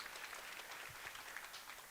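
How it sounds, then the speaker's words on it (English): An audience at a jigsaw puzzle national championship event applauds, a faint, continuous patter of clapping heard from a distance. "Give them a round of applause."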